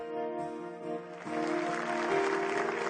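An audience breaks into applause welcoming a guest onto a talk show stage, the clapping swelling in after a musical sting and continuing steadily under the fading tones.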